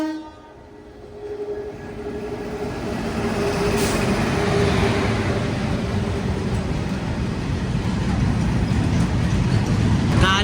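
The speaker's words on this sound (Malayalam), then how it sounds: "അടിച്ചു പോകുന്ന ഒരു BCNHL ഗുഡ്സ് ട്രെയിൻ ആണ് കാണുന്നത് കേട്ടോ" A BCNHL goods train of covered wagons passes on an Indian railway line, a deep rumbling roar of rolling wheels that builds from quiet to loud and holds steady, with a brief horn-like tone early on.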